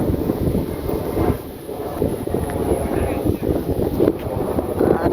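Wind buffets a microphone outdoors on a trip to the Rath Yatra in Mirzapur, Bangladesh, making a continuous low rumbling roar that swells and dips throughout.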